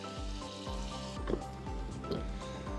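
Bacon sizzles and spits steadily in a pan over a homemade tin camping stove, a close, continuous frying hiss with faint stirring scrapes and no voices.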